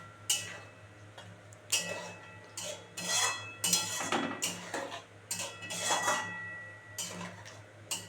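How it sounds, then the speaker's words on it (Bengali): A bowl is washed and water is added while kaju paneer cooks, with repeated clinks of dishware and splashy bursts coming in irregular clusters, close by. "তার বাটিটা ধুয়ে একটু জল দিই"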